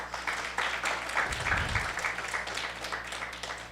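Graduation ceremony audience at Bates Memorial High School claps steadily for several seconds, a dense wash of many hands with a low rumble partway through, no talking over it.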